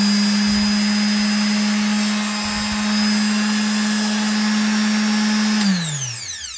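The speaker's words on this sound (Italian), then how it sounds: "devo ammettere che è fastidioso, ma non tanto quanto capita di sentire altre levigatrici a delta" A TILSWALL AJ23 delta orbital sander for wood and metal runs with a loud, steady high-pitched whine and buzz, then switches off and winds down near the end.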